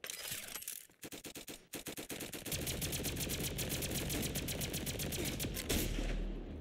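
Rapid video game gunfire crackles in dense bursts, with sparse shots at first giving way to sustained automatic fire that runs nearly unbroken to the end, loud and close.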